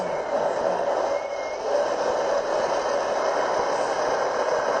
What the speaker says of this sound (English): We're looking at London traffic now. Now, here we go. Double-decker buses.